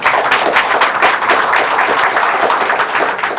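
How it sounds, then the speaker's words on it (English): Round of applause from an audience at a legal education conference in an Iloilo hotel, loud and close, with dense individual claps sustained throughout. "So please, let's give them a big round of applause."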